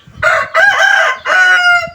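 A Thai fighting rooster crows loudly and close by, its call broken into three strong bursts with short gaps between them, with no other sounds.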